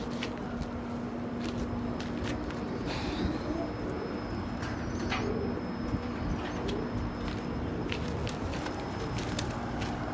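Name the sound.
pigeons cooing while feeding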